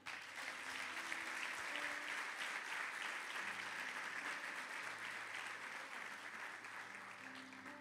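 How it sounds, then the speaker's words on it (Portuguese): A church congregation claps for Jesus during a service, sustained and even applause that carries on for several seconds, with faint held tones running underneath. "Um aplauso a Jesus."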